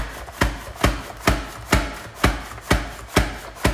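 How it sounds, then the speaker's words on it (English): A mandoline-style slicer shaves potatoes into thin slices in a steady rhythm, eight sharp crisp strokes about half a second apart, close and clear with no voices. "You can see how thin and how quickly this thing slices these potatoes"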